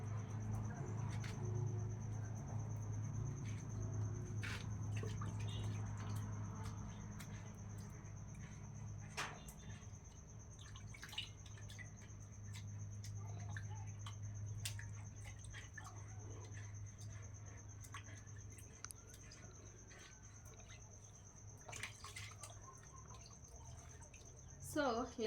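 Water dripping and splashing while an umwiko ugali stirring stick is rinsed outdoors in a village, scattered small drips and trickles under a steady background hum, with a person talking nearby.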